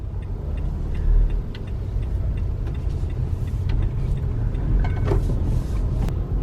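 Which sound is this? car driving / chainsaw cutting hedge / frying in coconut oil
car driving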